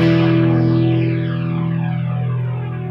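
Overdriven electric guitar on a Paul Reed Smith Hollowbody II rings out in a sustained, gritty chord with a spacey, modulated effect, slowly fading over a few seconds.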